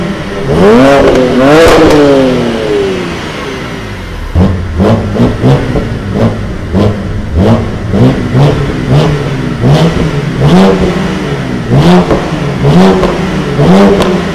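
A BMW engine revved repeatedly with the clutch pressed, first two long rising revs, then a rhythmic series of short sharp blips with exhaust pops and crackles between them, loud and close.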